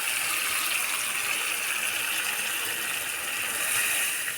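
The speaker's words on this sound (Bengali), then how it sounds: "এখন আমি জল দিয়ে দিই" Water gushes steadily into a pan of Bengali fish curry, a continuous bright splashing pour that stays loud and even throughout.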